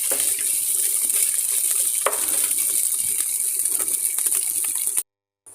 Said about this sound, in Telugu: అల్లం వెల్లుల్లి పేస్ట్ వేసుకోవాలి వన్ టేబుల్ స్పూన్ వేసి కొద్దిగా వేయించుకుంటూ ఉండాలి